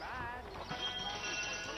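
Horse hooves drum in a galloping rhythm during a chase in Red Dead Redemption, mixed with a whinny and game music, while someone talks over the hoofbeats.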